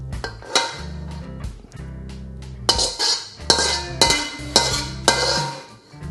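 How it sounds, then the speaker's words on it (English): A metal spatula scrapes and clanks against a wok as a cabbage and Chinese sausage stir fry is plated, producing repeated sharp scraping strokes and clinks in an irregular rhythm, close and clear with no talking. "I love making the sound where the spatula and the wok making."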